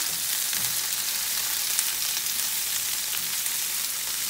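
Spinach sautéing in a pan over medium-high heat gives a steady, even sizzle and crackle that runs unbroken throughout, close and moderately loud with no voices.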